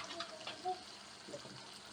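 Water poured into a cooking pot of chicken curry, a steady soft gushing and splashing that runs throughout at moderate, close level with no talk.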